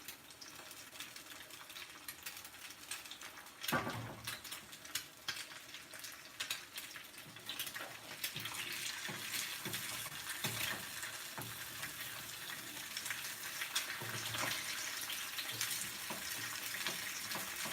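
Lamb liver with soy sauce fries in a pan for adobo, a steady crackling sizzle with bursts of spattering and occasional clinks, running continuously at moderate level with no talking.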